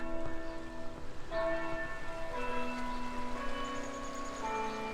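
Outdoor church bells ringing in Glen Rock, Pennsylvania, successive bell strikes layered over sustained ringing tones, fairly clear and steady, with faint background noise and no talking.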